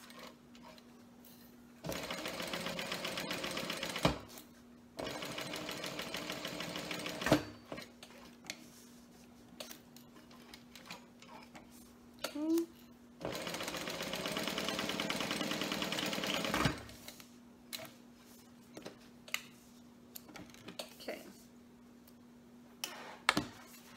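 A sewing machine top stitching fabric on a mini NCW, running in three steady motor bursts separated by pauses filled with small clicks and handling noises, close and moderately loud, with no voices.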